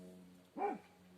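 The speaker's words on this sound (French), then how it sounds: "excusez-moi pour le chien qui aboie." A single short dog bark rings out once, near and clear, over a quiet indoor background hum.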